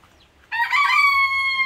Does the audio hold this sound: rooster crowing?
yes